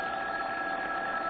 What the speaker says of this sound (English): As we rejoin him and his wife, Molly, the phone is ringing